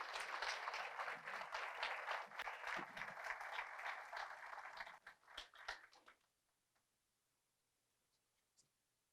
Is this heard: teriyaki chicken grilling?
no